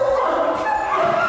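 Cane Corso puppies yip and whimper in a steady, close, high-pitched chorus of whining with scattered little barks during on- and off-leash training.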